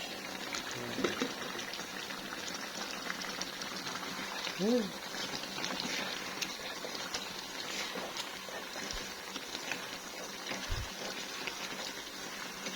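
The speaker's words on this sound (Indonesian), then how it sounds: "Sudah mendidih." A pot of heavily seasoned cooking liquid, with little water left, boils at a low steady simmer. The soft, continuous bubbling hiss stays faint and even throughout, with a few small knocks.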